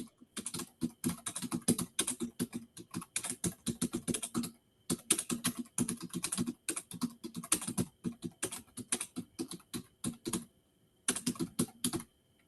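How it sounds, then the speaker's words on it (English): Rapid key clatter on a computer keyboard comes in quick bursts with a few short pauses, close and fairly quiet, with no voices over it. "I'll type it out."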